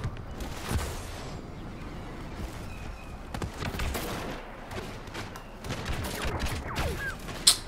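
Blaster fire in a Star Wars Battlefront battle, with scattered sharp shots and bursts of varying distance cracking over a busy background, and one louder shot near the end.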